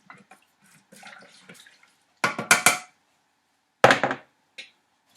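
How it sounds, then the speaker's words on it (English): Rice pudding ingredients stirred with a spatula in a pot, with two short bursts of scraping and clattering close by, separated by quiet, and a faint knock at the end. "Mix well with the spatula."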